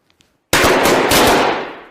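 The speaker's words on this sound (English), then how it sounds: "Let's pop some balloons." Several balloons burst in a quick loud pop at once, a sharp broadband blast that rings and fades over about a second, with faint clicks just before.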